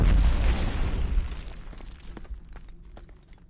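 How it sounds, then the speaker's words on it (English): Loud grenade blast in the multiplayer shooter Killzone Shadow Fall, a heavy booming burst that decays over a few seconds into scattered debris and distant crackles. "Grenade out."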